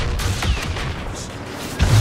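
Rocket barrage blasts from Boba Fett's rockets in Star Wars Battlefront 2, a dense burst of game explosions and gunfire with heavy booms near the start and a louder low-end impact at the end.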